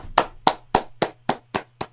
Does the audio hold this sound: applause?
yes